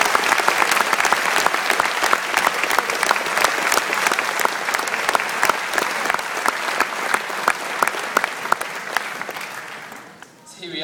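A graduation ceremony audience applauding for nearly eleven seconds, dense clapping from many hands filling a hall. It stays loud and even, then thins and fades near the end.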